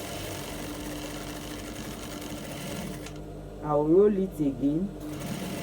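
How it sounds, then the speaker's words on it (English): A sewing machine stitches a straight dart on a bustier, whirring steadily up close for about three seconds. The motor then stops and a voice speaks briefly. "And I'll sew it down."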